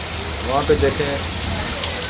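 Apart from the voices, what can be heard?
heavy rain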